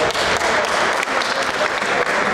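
Applause from a crowd at a rescuers' sports competition, a short dense burst of clapping that holds steady throughout, fairly loud and close.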